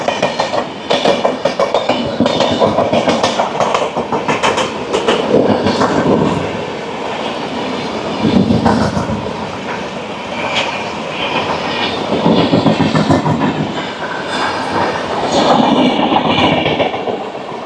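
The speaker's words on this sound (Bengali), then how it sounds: "আর এই ক্রস করতে হচ্ছে পাটনা এক্সপ্রেস, পাটনা কোটা এক্সপ্রেস জাস্ট ক্রস করছে।" The Patna Kota Express thunders past on the adjacent track as an express train runs the other way, a loud, continuous roar with rhythmic clickety-clack of wheels over rail joints, heard from inside the moving train with no speech.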